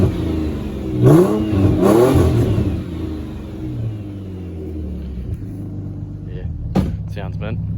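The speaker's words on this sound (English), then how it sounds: "I'll give her a couple revs for you." A Ford Falcon engine with custom exhaust revs up twice in quick succession with a deep, rumbling note, then settles to idle before a brief voice near the end.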